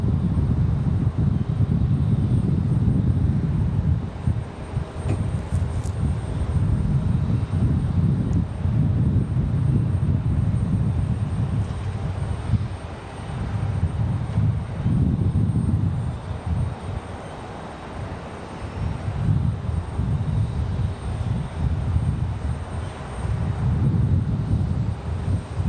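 A Delta airliner arriving from Los Angeles at Raleigh-Durham: a low rumbling engine drone that pulses and swells in repeated waves, heard alone at moderate distance with wind buffeting.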